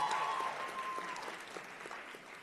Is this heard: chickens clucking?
no